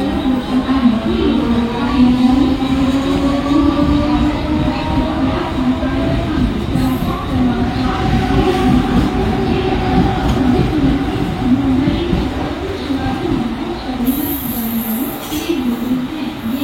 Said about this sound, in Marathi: प्लॅटफॉर्म क्रमांक 4 वर आलेली लोकल 6:30 मुंबई छत्रपती शिवाजी महाराज टर्मिनसला जाणारी जलद लोकल आहे